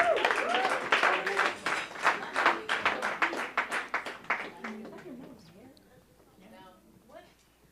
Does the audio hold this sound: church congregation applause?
yes